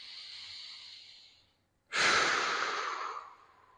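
A person breathes deeply during a golf stretching routine: a long exhale, a brief pause, then a strong, close inhale that trails off, with no talk.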